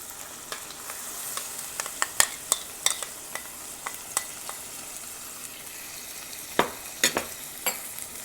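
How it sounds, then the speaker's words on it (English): Spinach puree sizzles in hot oil in a pan while a utensil stirs it, a soft, steady frying hiss broken by repeated sharp scrapes and clinks. "And now I'm going to add the spinach puree."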